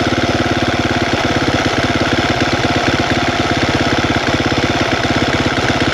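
A KTM 350 dirt bike engine idles high, giving a loud, continuous, rapid thumping drone that stays close and steady throughout.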